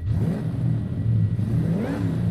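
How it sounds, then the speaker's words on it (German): A tuned, supercharged Dodge Coronet Super Bee in Forza Horizon 5 drones loudly under acceleration. A faint supercharger whine rides high above the deep, continuous engine roar, and the pitch climbs toward the end. "Kompressor hört man oben rum auch ein bisschen."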